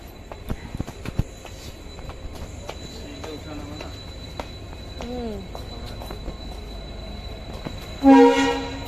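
Train arriving at a station, with rumbling wheels, scattered clanks and squeals, and a loud horn blast near the end, heard from the platform.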